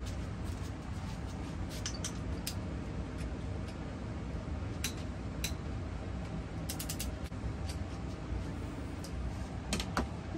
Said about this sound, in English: So now I'm gonna set my torque wrench to 16 foot-pounds here.